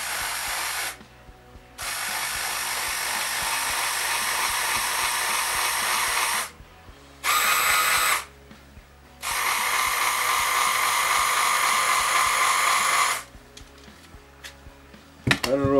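A Redmond RHB 2938 hand blender's motor whirs steadily through several long runs, cutting out briefly between bursts, close and loud, ending with a few clicks and handling noises.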